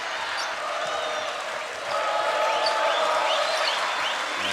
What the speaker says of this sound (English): And listen to the crowd again.